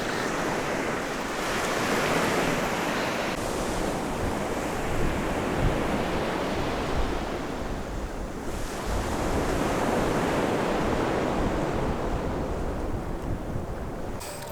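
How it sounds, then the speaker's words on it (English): Waves break and wash continuously onto a Pacific beach at sunset near a campsite, a loud, rolling roar of surf with wind buffeting the microphone throughout. "this beach here is maybe 20 steps away from my campsite"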